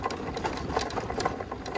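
A motorbike is ridden over a bumpy off-road trail in Nuwakot: a steady, close engine drone broken by quick rattling jolts and knocks as the wheels hit the rough ground.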